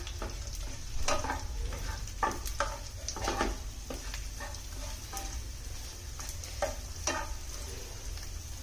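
Edible gum (gond) frying and puffing in hot ghee, with a steady sizzle broken by sharp pops and crackles and stirring scrapes in the pan, close up, no voices.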